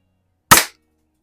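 Vintage El Gamo model 68 .22 caliber break-barrel air rifle firing at a paintball target in a garage: a single sharp, loud crack that decays quickly into silence.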